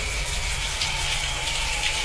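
Rain falls steadily as a spooky sound effect in a spoken horror story, a continuous dense hiss of drops washing over a surface with no voice present.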